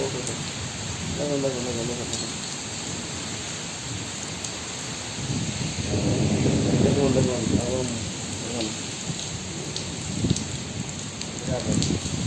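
Heavy unseasonal rain pours steadily with gusting wind roaring through it, while voices talk faintly underneath the downpour.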